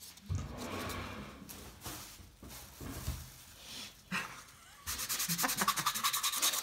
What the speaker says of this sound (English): And you have to sand it a bit.